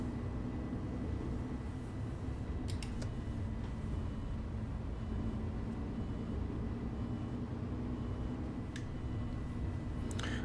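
Steady engine drone of a Solaris city bus in the SIMT driving simulator, a continuous low hum with a constant tone and a few faint clicks over it.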